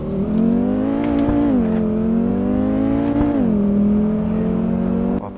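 A race car engine in Assetto Corsa on the Nürburgring drones steadily at high revs, its pitch dipping and climbing through gear changes and corners, loud and continuous with no talk.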